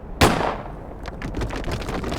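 A single sharp gunshot rings out in the indie horror game The Third Wish, loud and close, then fades into a low, rumbling ambience.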